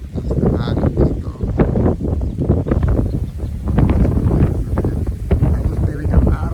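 Strong wind buffets the microphone outdoors, a continuous loud rumbling roar with gusty surges throughout, under a voice talking steadily.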